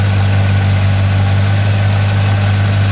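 Original 350 V8 in a 1969 Oldsmobile Cutlass S idling steadily, a loud, even low rumble with a strong hum running unbroken throughout, no voices present.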